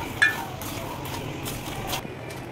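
Makhana, or fox nuts, being stirred in a pan give soft scraping and light clinks of a spoon against metal, quiet and steady, with one sharper tap early on.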